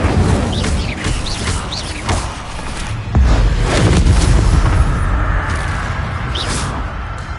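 The Incendio fire spell in Hogwarts Legacy is cast among several booming blasts and whooshes, with a heavy low rumble surging midway and flaring magic effects continuing loudly.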